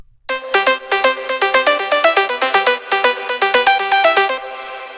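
A dense, bright synth lead processed with OTT compression runs through a fast staccato melody, its notes punchy and wide with a short airy tail after the final note.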